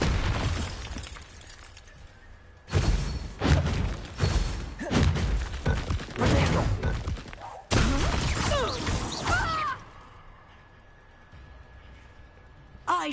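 Bombarda blasting spell impacts in the video game Hogwarts Legacy, a series of loud booming, shattering bursts in close succession with bright crackling debris, then quieter ambience with a steady tone.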